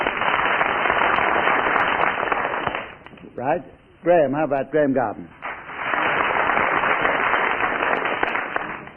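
Studio audience applause for a BBC radio panel show, loud and sustained for about three seconds, then someone speaks briefly before a second long burst of clapping rises and carries to the end.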